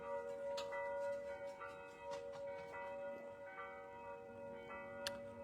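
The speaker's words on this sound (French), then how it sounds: "On va laisser les cloches sonner" Bells ring faintly in the distance with repeated strikes and sustained, overlapping tones, steady throughout with no talking.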